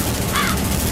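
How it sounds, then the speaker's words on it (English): A single crow caw sounds briefly amid dense ambient noise in the VR horror game Affected VR Carnival, distinct but short against the steady background. "I hear a crow."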